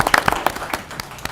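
Brief scattered applause from a small audience at a city commission meeting, a handful of separate claps rather than a full ovation, fading quickly.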